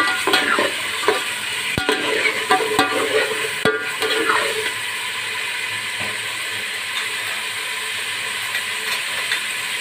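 Small chicken pieces fry in a pan while a utensil stirs them, rhythmic scraping and clicking strokes over a strong, steady sizzle that settles into continuous frying hiss after a few seconds.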